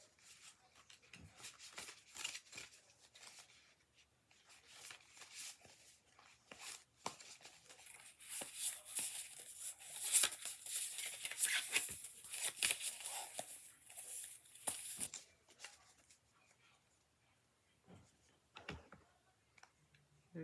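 Crisp, rapid clicking and riffling of playing cards worked by hand, in several bursts with short pauses between, close and fairly quiet.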